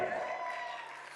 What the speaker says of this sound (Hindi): एक जोरदार तालियां होनी चाहिए दोस्तों